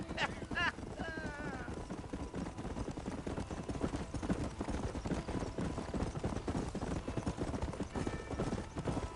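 Horse hooves clip-clop in a steady, rapid rhythm in the Red Dead Redemption video game, with a brief whinny near the start and a voice speaking over the galloping.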